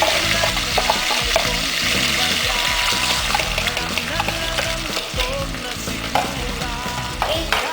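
Chicken adobo sizzles and bubbles in a pan as its soy-vinegar marinade is added, with loud steady frying crackle, liquid bubbling and occasional stirring scrapes close up.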